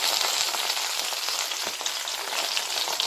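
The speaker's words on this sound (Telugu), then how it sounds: "నూనె వేసి ఇలా తిప్పుకుంటూ వేయించుకోవాలి" Tomatoes frying in about three spoons of oil for tomato pickle while being turned: a dense, continuous crackling sizzle, loud and close, without speech.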